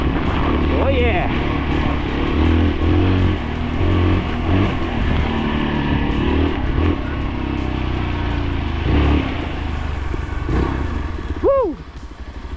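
Yezdi Adventure motorcycle engine running loud and close throughout with throttle blips, ridden on wet, muddy ground, while people talk and cheer over it.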